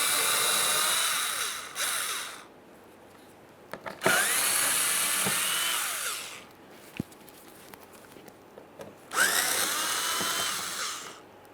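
A power ratchet drives out the bumper mounting bolts with a 7mm socket on a 2013-2020 Ford Fusion 2.0L, three loud, sustained whirring bursts separated by quiet pauses with light clicks and handling noises.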